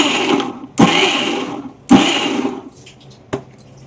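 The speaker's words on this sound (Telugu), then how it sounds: "ఇది ఒకసారి మళ్ళీ మిక్సీ చేసుకుని వస్తాం" A kitchen mixer grinder whirs through green chillies for a coconut chutney in three short, loud bursts, each cutting off sharply.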